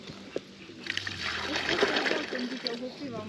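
Water pours and splashes out of a container after a fishing catch, a trickling, sloshing stream that swells in the middle of the clip, with voices nearby.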